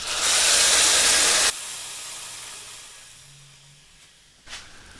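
A loud rushing hiss of steam for over a second as boiling water is poured into a pot of tomatoes and onions, cutting off abruptly, then a faint fading simmer and a brief hiss near the end.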